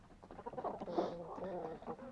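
Hen clucking close by in a farmyard, a few short irregular clucks mixed with human vocal sounds that may partly imitate the bird.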